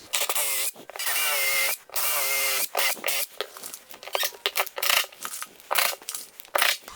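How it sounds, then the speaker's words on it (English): A power drill drives screws into a glued wooden jig in several short whirring bursts with brief pauses, close and moderately loud. "So now I'm going to add some screws in here, probably 3 of them"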